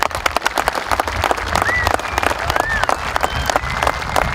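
A crowd at a Little League opening day applauds the parents, with loud, dense clapping and a few sharp individual claps standing out, plus brief whistles partway through.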